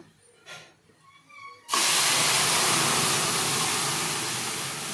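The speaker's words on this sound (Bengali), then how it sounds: "এখন আমি ডালটা সম্বাস দিয়ে দিব" Hot tempering poured into a pot of lentil dal (chickpea and kalai dal tarka with potato) bursts into a loud, sudden hiss after a quiet moment, then holds a steady, strong sizzle that slowly eases.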